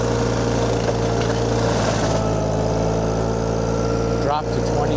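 The VMENG 25HP mulcher engine runs steadily up close, a constant droning hum with a brief dip and wavering shift near the end, while a voice talks over it.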